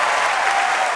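A studio audience at a comedy debate show claps to pick a winner, making one second of dense, steady applause with no voices over it.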